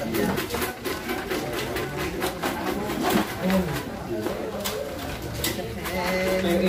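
A racing pigeon hen coos softly amid busy crowd chatter at a pigeon race awarding, her calls partly buried under continuous talk.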